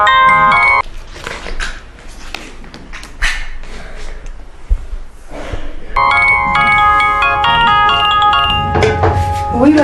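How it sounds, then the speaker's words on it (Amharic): A telephone ringtone plays in bursts of bright electronic tones, loud and close, stopping in the middle before resuming strongly, with a few soft thumps in between. "ስልክ እየጠራ ነው። አይሰማህም?"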